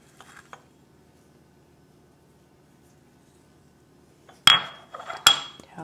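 A ramekin dish of creme brulee custard sprinkled with sugar is tapped, a quiet scrape early on followed later by a couple of sharp clinking knocks of the dish against a hard surface.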